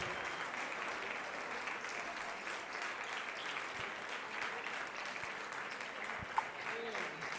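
A congregation at a pastors' conference event in Cuba applauds, a steady wash of clapping heard from a distance at moderate level, with a few scattered louder claps and faint voices mixed in.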